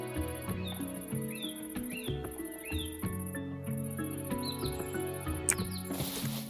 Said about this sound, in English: As you can hear, there are like little bird chirps and little kind of bug noises.